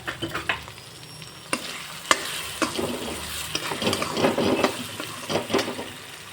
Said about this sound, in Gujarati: હવે ફ્રેન્ડ્સ હું અડધા કપ જેટલા શિમલા મિર્ચ નાખી દઈશ હવે આપણે બધું મિક્સ કરી દઈશું